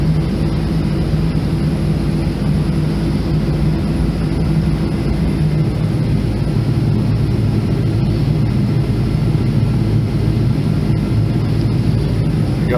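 A New Holland CR920 combine harvester runs steadily throughout, a loud continuous low engine and machinery drone with a constant hum and no pauses.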